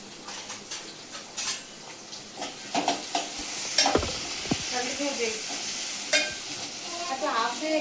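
Onions frying in a pan for chicken gravy curry, with a soft sizzle under repeated scrapes and clinks of a spoon against the pan, close and uneven, with brief voices in the background.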